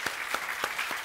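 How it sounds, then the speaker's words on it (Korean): Church congregation applauding during a Korean worship service: a short, steady burst of many hands clapping together, with faint rhythmic pulses and no speech. "우리 주님께 영광의 박수 한번 올려드리십시다."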